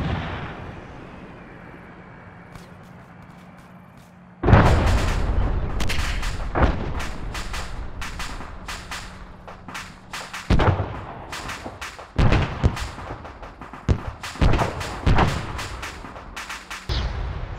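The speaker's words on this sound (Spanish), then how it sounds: "Veamos el efecto de este tipo de fuegos de alto explosivo, o HE. Se trata de una única andanada, a un disparo por pieza." Single volley of high-explosive rounds from M110 A2 howitzers in ARMA 3, four shots in all, heard as heavy booms and thuds after a quiet stretch, followed by scattered sharp blasts of varying loudness.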